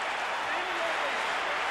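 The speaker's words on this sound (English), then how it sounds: "by far the loudest applause of the night" Steady, even applause from an audience at a gymnastics show, a continuous wash of clapping at moderate volume throughout.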